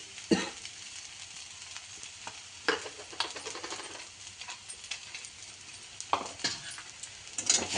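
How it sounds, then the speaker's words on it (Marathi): Sabudana khichdi with peanut powder is stirred and sautéed in a non-stick pan, with a low continuous sizzle under repeated scraping strokes and a few louder knocks of the spoon against the pan. "चांगला परतून घेते चांगलं"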